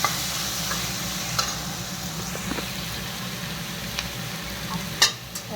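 Potatoes frying in a pan with spices and ginger-garlic paste, a steady low sizzle under occasional stirring scrapes and clinks, close by with no talk.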